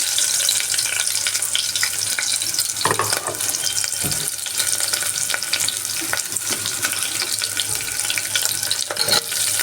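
Onions for egg biryani sizzle and fry in a pan, a dense continuous crackle with occasional louder stirring scrapes and clatters, close and fairly loud with no talking.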